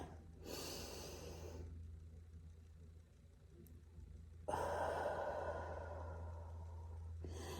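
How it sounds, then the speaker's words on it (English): A deep breath drawn in and let out slowly, two long breathy swells a few seconds apart, close and soft over a low steady hum, with no talking. "I'm going to get everybody to just take a deep breath"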